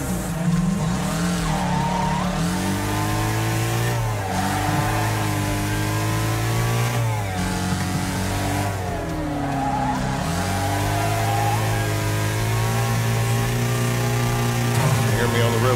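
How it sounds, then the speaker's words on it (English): A car engine in the racing game Wreckfest holds steady against the rev limiter, a loud sustained buzzing drone that bounces and wavers for long stretches, with tires squealing and other cars roaring nearby and a voice talking over it. "You hear me on the rev limiter right there, that's crazy."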